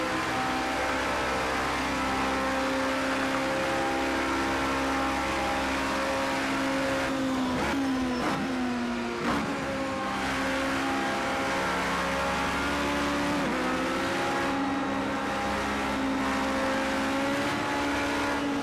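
An LMP prototype race car engine screams at high revs at Le Mans in Project Cars 2, heard loud and steady from the cockpit with a few sharp gear shifts and a brief drop in pitch, no talking.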